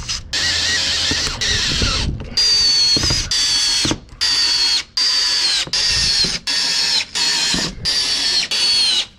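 A power drill drives fasteners into new steamed oak frames on a wooden boat under restoration, about ten short, loud whirring bursts separated by brief pauses, close up and with no talk.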